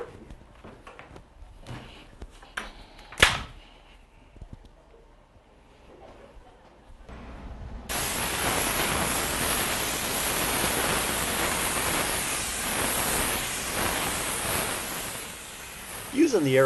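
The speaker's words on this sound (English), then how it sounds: "Using the airless sprayer is a great tool to get transition of color between one layer to the next." An airless sprayer applying acid stain to a concrete floor starts with a few quiet clicks and handling noises, then gives a steady, loud broadband hiss that runs to the end.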